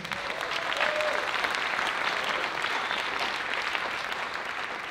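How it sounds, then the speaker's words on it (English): A crowd at a dance show applauds a dancer named James, dense continuous clapping filling the room evenly and loudly for several seconds, with faint voices mixed in. "let's give James a big round of applause"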